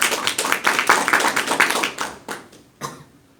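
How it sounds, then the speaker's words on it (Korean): Scattered hand clapping from an audience at a social entrepreneur gathering, a short burst of claps that thins out quickly, with a few final isolated claps. "그럼 큰 박수와 함께 시작해 보겠습니다"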